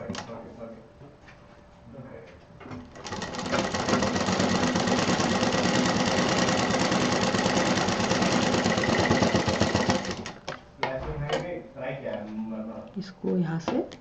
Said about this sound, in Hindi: इसके दूसरे सिरे पर इसको ऐसे सिल देंगे।